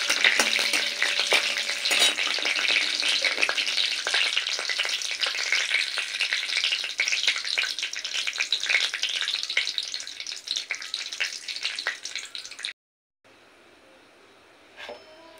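Panch phoron spices frying in hot oil, with a steady crackling sizzle up close for about twelve seconds, then a sudden cut to near silence with one faint clink.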